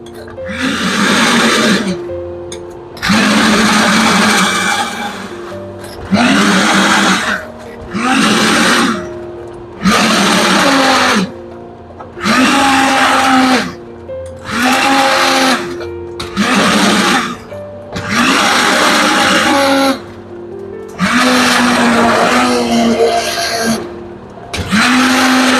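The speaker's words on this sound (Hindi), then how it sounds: "ये जी मैं मसाला पीस रही हूँ अपने मशरूम ब्लेंडर में" A small kitchen blender grinding masala spices, running in repeated bursts of a second or two with short pauses between, loud and close, with a rising whine as each burst spins up.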